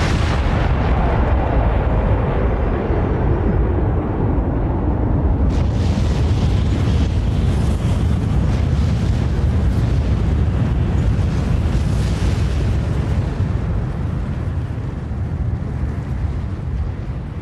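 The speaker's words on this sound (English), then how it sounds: "This is the moment it all started," A Big Bang explosion sound effect booms out, a huge, loud, sustained rumbling blast whose roar slowly fades and settles into a long, deep, continuous low rumble.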